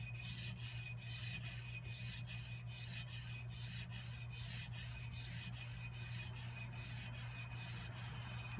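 Hand sanding a knife blade on a plate, a rhythmic rasping rub repeating at an even back-and-forth pace, close and steady over a constant low hum.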